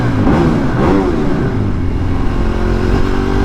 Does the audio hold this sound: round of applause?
no